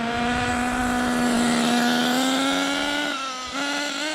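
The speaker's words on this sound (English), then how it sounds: "So I just have to warm up the engine a bit" A small high-revving HPI Trophy Truggy 4.6 nitro engine warming up buzzes loudly and steadily close by, its pitch wavering slightly before briefly dropping and picking back up.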